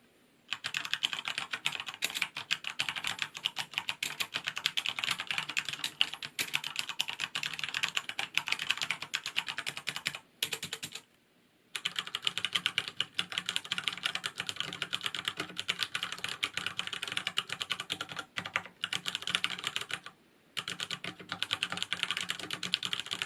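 Steady typing on a Corsair K70 LUX RGB mechanical keyboard with Cherry MX Brown switches, close and continuous, with brief pauses between bursts of keystrokes.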